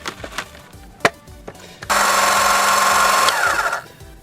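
A 12V DC electric hydraulic car jack's motor starts up and runs steadily with a loud, even whine for about two seconds, then cuts off, after a few sharp clicks and handling knocks.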